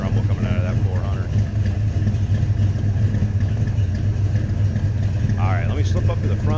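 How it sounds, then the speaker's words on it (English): A deep, steady V8 engine rumble from a 1972 Chevrolet C10 pickup with a 400 engine idles nearby, loud and continuous, with faint chirpy sounds on top now and then. "Nice rumble coming out of that 400."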